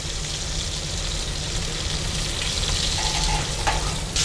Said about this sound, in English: it's starting to sear on the sides. It's almost shallow frying